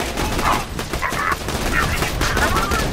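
Rapid, overlapping gunfire from antique-style guns in Borderlands 2 fills the whole stretch with a dense, continuous crackle, loud and close, with a voice partly audible beneath it.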